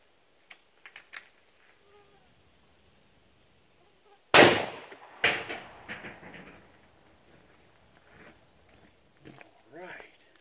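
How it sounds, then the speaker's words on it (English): A single sharp, loud 6.5 Creedmoor rifle shot fired with a reduced load of Hornady 120 gr GMX, cracking out of near silence and followed by a second impact and a fading tail, with scattered small clicks before and after. "Next shot will be a reduced load."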